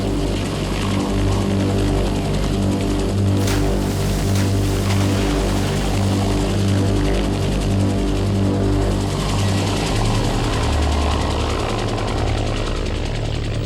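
A military helicopter flies fast and low over icy water, its rotor and engine roaring loud and steady throughout with a strong pulsing drone and no talking.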